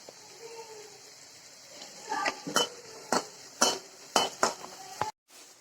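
Curry leaves splutter and crackle in hot oil in a pan while sautéing for semiya upma with carrot and beans, giving a run of sharp pops and clinks that grow louder and denser toward the end.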